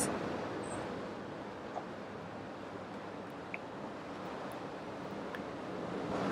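Ocean waves and surf wash in a steady, broad rush of noise that swells and eases slightly, with a touch of wind and no voices.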